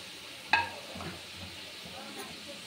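Prawns drop into a hot pan for a mustard prawn curry, giving a short clink and then a soft, faint sizzle with light stirring noises, with no talk over it.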